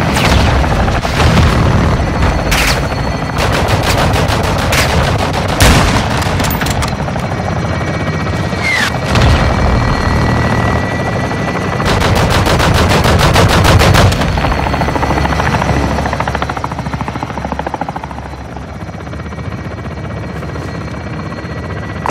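A requested fire support strike in the Call of Duty Modern Warfare video game, with long bursts of heavy machine-gun fire, thudding explosions and a whirring helicopter overhead, loud and sustained throughout before easing off near the end.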